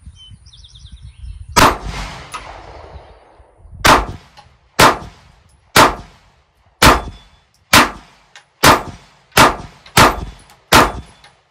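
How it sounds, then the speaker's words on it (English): A Canik pistol fired outdoors with a new recoil spring: one sharp shot, a pause, then a rapid string of about nine evenly spaced loud shots, each followed by a short ringing decay. "I just wanted to shoot the fast one"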